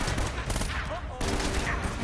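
Rapid gunfire bursts in the video game Uncharted: Drake's Fortune, dense overlapping shots filling the moment with a loud, busy background of game sound.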